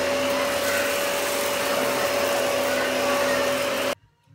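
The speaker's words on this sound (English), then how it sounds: "we are going to vacuum it up." A vacuum cleaner runs with a loud, steady roar and whine while sucking spilled rice off a floor near a rug, cutting off abruptly near the end.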